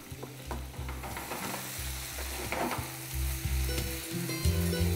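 Tomatoes fry in a pan with steady close sizzling, while stirring adds repeated scraping and clattering, and no voices are heard.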